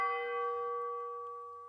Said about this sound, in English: So I was like, well, there should be like the church bells